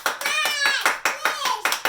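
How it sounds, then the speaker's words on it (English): Children clapping their hands in a kids' yoga class, a steady rhythmic run of loud, evenly spaced claps about every fifth of a second, with a voice talking over them. "You can start to clap your hands."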